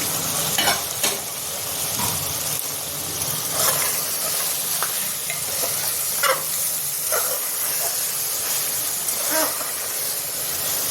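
Mutton biryani cooks in a covered pot, giving a steady sizzle and hiss with steam, broken by repeated scraping and stirring strokes of a spoon against the pot, close and fairly loud throughout.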